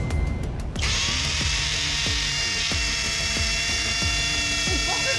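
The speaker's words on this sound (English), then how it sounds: "You really feel the drill doing the work." Flex hammer drill with a masonry bit boring into a cement-filled cinder block, a loud steady motor whine with rhythmic hammering pulses roughly every half second, close up, after a short burst of other noise at the start.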